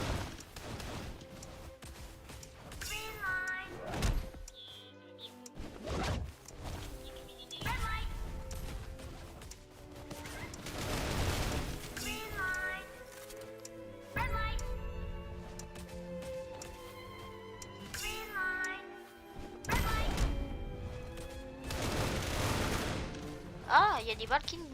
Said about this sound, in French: il y a des balles qui nous tombent dessus